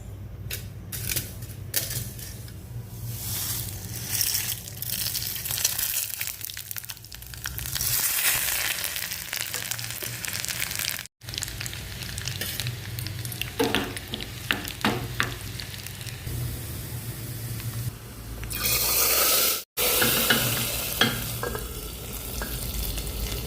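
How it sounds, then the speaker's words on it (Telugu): Steady oil sizzling and crackling in a pan as eggs fry, continuous and close, with occasional scraping and clinking, no voices. "ఆయిల్ పెట్టేసుకున్నాను ఎగ్స్ ఫ్రై చేయడానికి"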